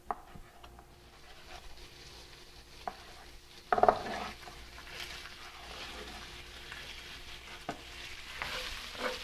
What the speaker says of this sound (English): we're just cooking it over medium heat in a tiny bit of oil with a little bit of garlic